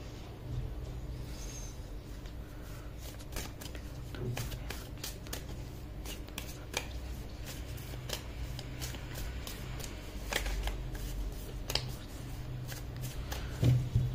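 Tarot cards are shuffled by hand in a steady stream of soft riffling flicks and crisp snaps, moderately close over a low constant background hum, with no talking.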